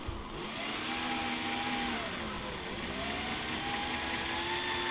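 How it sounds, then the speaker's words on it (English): A power drill spins a saw blade cutting down through a roll of duct tape, making a steady, loud whirring hum with a slight wavering pitch for several seconds, close by and without talk. "the drill's doing all the work"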